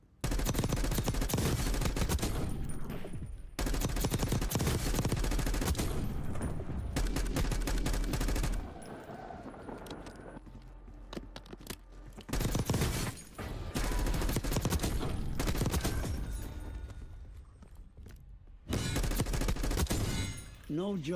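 Bursts of assault rifle gunfire in the video game Call of Duty: Black Ops 6, loud sustained automatic volleys separated by short quieter gaps, repeated several times.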